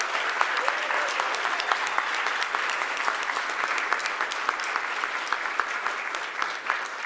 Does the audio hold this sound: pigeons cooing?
no